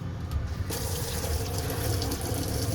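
Water runs from a household tap in a steady close gushing stream, growing brighter as the flow opens up, with no voices.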